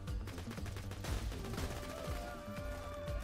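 Rapid pistol fire in Borderlands 2, Captain Scarlett DLC, a dense run of sharp gunshots cracking out in quick succession over a busy, loud game soundscape, with no pause in the shooting.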